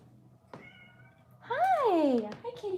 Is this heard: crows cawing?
no